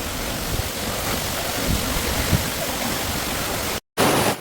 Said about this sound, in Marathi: आपण आलो आहे येळवली धबधबा